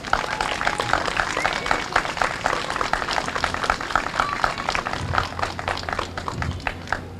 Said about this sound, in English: I think we should give Katie and the committee members a round of applause for their good work